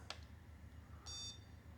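An electronic stud finder emits a short chirp followed by a brief, higher, steady beep, faint and thin against quiet room noise.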